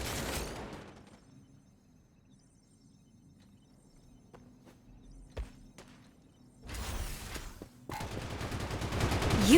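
Gunfire in the shooter game Strinova: a long burst of heavy automatic fire opens, then a few sharp isolated shots sound over quiet, before louder sustained firing returns near the end.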